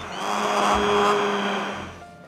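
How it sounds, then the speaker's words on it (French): An immersion blender purees a pumpkin velouté, producing one loud, close whirring burst that swells up and then tapers off over about two seconds. "on va pouvoir le mixer à l'aide d'un mixeur plongeant"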